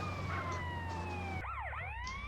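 An ambulance siren wails in GTA San Andreas, a steady two-tone whine that switches to a fast rising and falling yelp, heard over a low rumble of engine noise.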